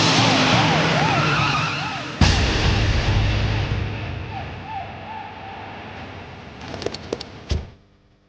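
A car skids and screeches loudly, its rumble fading as it slows to a stop. Brief clatter follows near the end, with other sounds layered over it.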